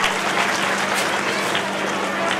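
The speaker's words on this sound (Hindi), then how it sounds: "तालियां तो बजा करिए" An outdoor crowd at a Shri Ram Katha gathering on the Ramlila ground in Lohaghat claps in a loud, continuous wash for a couple of seconds, with a low hum beneath the dense patter.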